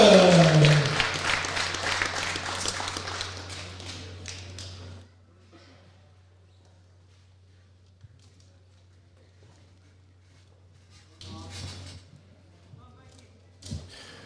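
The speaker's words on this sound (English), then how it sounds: "keep your applause going for his opponent, Stevenson" Crowd applause at a youth and elite boxing championship in Scotland, loud and dense at first and fading over about five seconds, followed by quieter scattered claps and a steady low hum.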